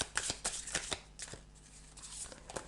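Oracle cards being shuffled by hand, a quick close run of papery riffles and flicks that slows partway and then picks up again, with no talking.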